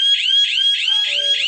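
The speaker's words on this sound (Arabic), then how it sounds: "السرينه تشتغل 5 دقائق 10 دقائق براحتي" A home security alarm system siren blares loud and close in rapid repeating electronic whoops, a steady pulsing tone about five times a second with no talking.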